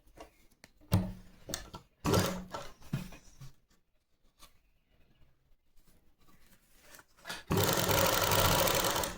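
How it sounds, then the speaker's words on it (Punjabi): A sewing machine stitches a folded fabric belt in short stop-start bursts, then runs in a long, loud continuous stretch at the end, with quiet handling pauses between bursts. "ਫੋਲਡ ਕਰਕੇ ਆਪਾਂ ਇਦਾਂ ਸਲਾਈ ਲਗਾ ਦਾਂਗੇ"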